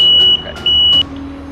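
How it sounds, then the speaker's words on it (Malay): Buzzer of a car electrical system tester sounding to show an intact fuse: two loud, shrill, steady electronic beeps, each about a third of a second long, separated by a short gap over a low background hum. "jika kita nak lihatkan dia sama ada okey atau tidak, dia buzzer akan berbunyi."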